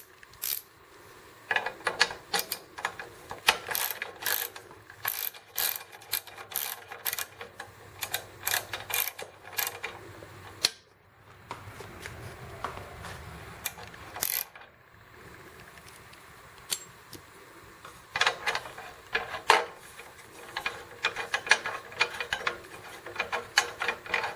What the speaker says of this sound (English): you're going to need a 5/16 Allen wrench. And I'm using a socket type.